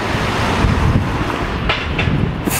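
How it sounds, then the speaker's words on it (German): Strong wind buffets the microphone outdoors at a train transfer station, a loud, continuous rumbling roar with faint rail and clatter sounds mixed in. "es ist sehr windig"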